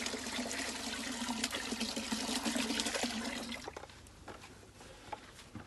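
Water pours and trickles off mashed tomato seeds in a bucket, a steady close splashing flow that cuts off partway and leaves faint dribbles and drips.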